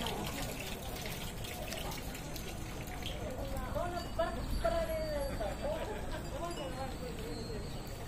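Water pouring at a Japanese temple purification fountain in Sendai where visitors rinse their hands, a soft continuous trickle and splash beneath someone speaking French.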